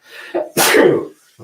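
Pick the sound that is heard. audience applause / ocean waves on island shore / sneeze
sneeze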